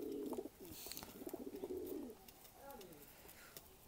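A pair of Tula pigeons cooing nearby, soft repeated low coos in short phrases, fairly quiet, with faint background noise.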